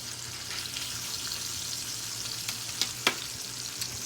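Steak frying in garlic butter in a pan gives a steady close hiss and crackle, broken by a few sharper spatters near the end, with no talking.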